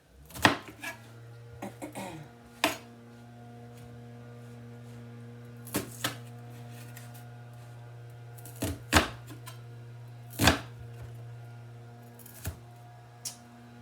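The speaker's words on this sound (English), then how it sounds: "so I'm cutting up these 3 onions, just in kind of thick slices" A knife chops onions into thick slices on a board, with sharp irregular thuds spaced a second or more apart over a steady low mains hum, no talking.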